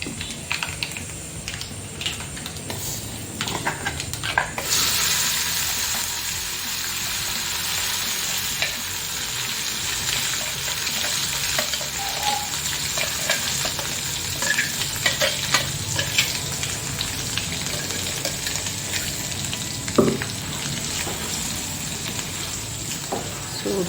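Chana dal tempering for radish chutney sizzles in hot oil in a pan, a continuous close crackling hiss broken by scattered scraping clicks as it is stirred.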